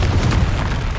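A Confringo blasting curse explodes in the Hogwarts Legacy video game, a dense, loud, booming blast with rumbling low end that fills the whole brief moment without a clear gap.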